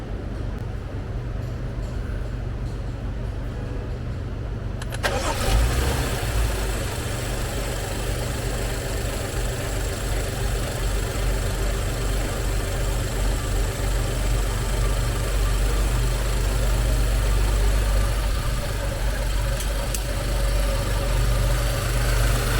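A BMW N55 engine cranks and catches, then settles into a steady, rumbling idle that runs on evenly, close by, with a fixed belt tensioner.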